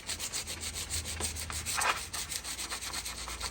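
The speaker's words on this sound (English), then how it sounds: "I'm just using a 120 grit paper to start with, so it's not too harsh, but it gets the bulk of the paint off" Hand sanding with 120 grit abrasive paper stripping paint from a metal part of a Deckel FP1 clone milling machine being rebuilt, a steady close back-and-forth rubbing scrape in repeated strokes with no talking.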